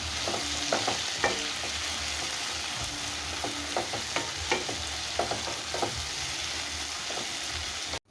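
Chopped tomatoes sizzle in hot oil as they are sautéed for a South Indian kuzhambu, a steady close frying hiss broken by scattered light clicks and scrapes of a spoon against the pan.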